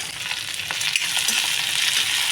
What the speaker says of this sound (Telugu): దీంట్లో ఉల్లిపాయలు పచ్చిమిర్చి కరివేపాకు వేసేసుకోండి